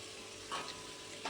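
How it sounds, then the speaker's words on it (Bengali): Mustard paste is stirred into spices frying in oil, giving a soft, steady sizzle with a couple of brief scraping swells from the stirring. "সর্ষে বাটা দিয়ে আবারও ভালোভাবে মিশিয়ে নিচ্ছি।"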